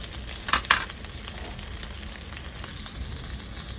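Whole cumin and dry red chilies crackle and sizzle in hot oil, with a couple of sharp pops early on before settling into a steady, moderately loud fry with no talking.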